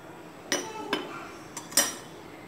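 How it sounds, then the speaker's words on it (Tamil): A spoon clinks against a pot of boiling milk being stirred for palkova, four bright metallic taps spaced unevenly over a quiet stove background. "இப்போ பால் நல்லா கொதிக்க ஆரம்பிச்சிருச்சு. இதை வந்து அப்பப்போ கிளறி விட்டுக்கிட்டே இருக்கணும்"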